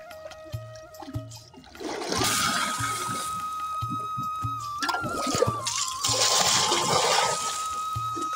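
Water is poured over muddy tilapia freshly caught from a drained village pond, a steady splashing gush that starts after a couple of seconds and runs continuously, fairly close.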